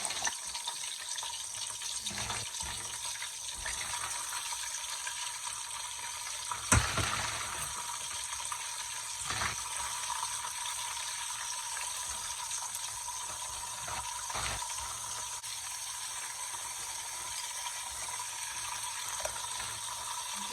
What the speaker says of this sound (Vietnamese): Dầu đã nóng rồi thì mình sẽ cho gà vô. Mình cho cái lớp da nó xuống thì mình chủ yếu là mình chiên cho nó vàng cái lớp da thôi.